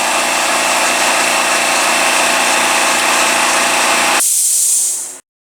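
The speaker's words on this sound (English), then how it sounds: "Let's pause for a moment to recharge the air compressor." A shop air compressor runs loud and steady with a constant motor drone and hiss, then cuts off abruptly, leaving a brief high hiss of air before silence.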